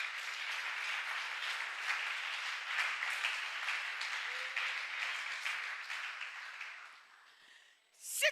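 A church congregation applauds in a sustained, even wash of clapping that holds steady for several seconds, then thins and fades out near the end.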